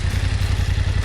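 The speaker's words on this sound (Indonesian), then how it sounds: "sekarang F900R ini udah menyala dan emang sangat khas banget suaranya. Raungannya emang cukup keras" A BMW F900R naked motorcycle with a 900 cc inline two-cylinder engine runs at a steady idle, a loud, close, throbbing low rumble with an even pulsing beat and no talk over it.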